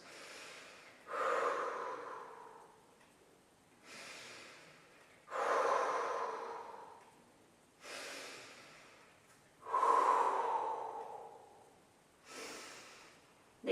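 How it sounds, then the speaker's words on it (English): Heavy rhythmic breathing during a knee exercise routine: about seven sharp forceful exhales and inhales in a steady cycle roughly every two seconds, close and clear with no talking. "5 more breathing cycles."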